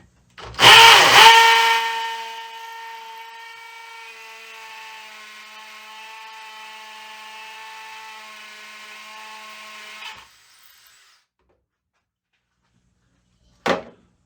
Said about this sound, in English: These blocks are a lot softer, a lot easier to drill through than poured concrete as well.